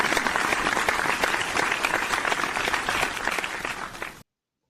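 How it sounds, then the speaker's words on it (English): Audience applause at a sports talk show event, a dense, steady burst of many hands clapping that fades slightly before cutting off abruptly. "Let's give George a round of applause"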